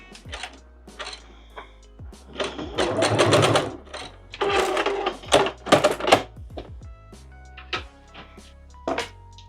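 A domestic sewing machine back-stitching over a shortened skirt hem, loud close bursts of rapid needle chatter separated by pauses and small handling clicks, with no talk.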